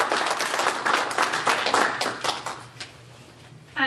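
Audience applause at a Jefferson City seminar greets Ruth Carlson as she steps up to speak: steady, dense clapping from a room of people that fades over a few seconds, with no talking.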